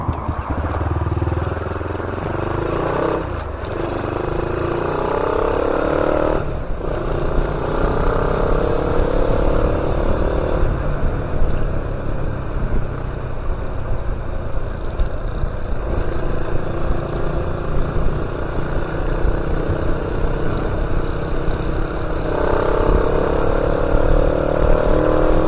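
An Espada LC135 motorcycle fitted with a racing coil and a Super 3 spark plug revs and pulls hard. The loud, close engine drone rises and falls in pitch as it accelerates, with brief drops between revs.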